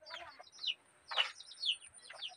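Chickens in a rural yard among garden plants, giving short clucks and chirpy calls in bursts, moderately near with no talk.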